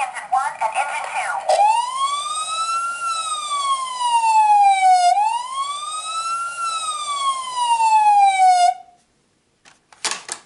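A 2021 Matchbox Action Drivers toy fire station sounds its siren loud and close, a rising and falling electronic wail cycling twice after a short burst of sound, then silence before a brief final blip.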